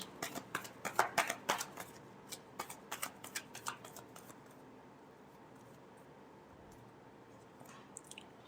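Tarot cards are shuffled in a rapid run of crisp riffling flicks up close, then the flicks thin out to a few scattered taps over quiet room tone.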